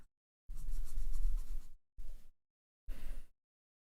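Colored pencil scratches across paper while a black area is layered over, in three separate shading strokes heard up close, one long then two shorter, with silent pauses between.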